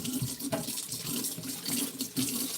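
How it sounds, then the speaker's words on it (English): Hot water running from a tap into a sink, a steady splashing hiss that continues throughout at moderate volume, close by. "I'm also running some hot water."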